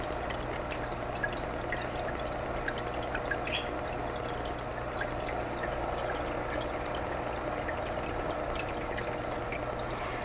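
An AquaClear hang-on filter returning water into a reef aquarium, a steady continuous splashing trickle with a constant faint pump hum, close and even throughout, no talking.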